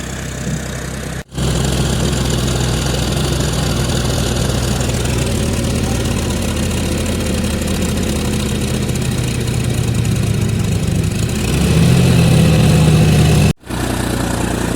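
A tractor engine idles steadily and loudly, a continuous low chugging drone with brief cutouts at the start and end.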